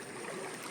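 A Konkan village stream running at full force makes a steady, dense rushing wash that stays even and loud through a brief moment, with no voices.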